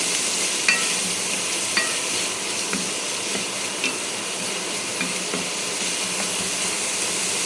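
Onions being sautéed in a pan, a steady close sizzle and hiss punctuated by light spatula scrapes and taps at irregular intervals, with no talking.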